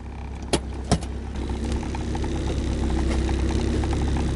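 Long-parked Honda Integra DA9 with a seized-up clutch and shifter, its engine running steadily at a close, even idle after two sharp knocks at the start.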